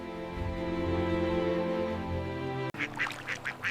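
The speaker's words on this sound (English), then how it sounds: "Ducks, resilient and sociable, quack softly while navigating icy ponds." Ducks on an icy pond quack in a quick run of short, nasal calls after a sustained tonal drone, near and moderately loud.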